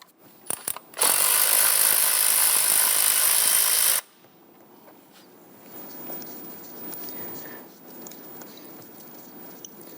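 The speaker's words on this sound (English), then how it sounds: "On the bottom here, there's a 10mm bolt. You want to go ahead and loosen and remove that." A 10mm bolt on a 2011-2021 Jeep Grand Cherokee 3.6L V6 ignition coil is loosened with a power tool: a sharp click or two, then a loud steady whir for about three seconds, followed by quieter shuffling and handling.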